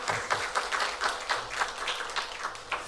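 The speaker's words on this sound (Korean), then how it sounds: "우리 현악기 연주해 주시는 분들에게 감사의 박수, 격려의 박수 하겠습니다." A church congregation at a university chapel Easter-week service claps steadily for the choir and string players, a dense ongoing patter of many hands at moderate loudness.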